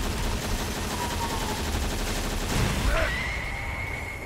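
Akuma's super move in the Street Fighter V fighting game: a dense, loud barrage of rapid impact hits and crackling blasts, swelling into a sharp burst before a high, sustained ringing tone carries the finish.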